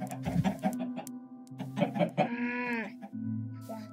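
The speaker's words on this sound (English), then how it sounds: "Oh, that chicken just grew up." Chicken in a video game clucking in a run of short clipped calls, then a rising drawn-out squawk near the middle before a brief low tone, close and clear with no voices.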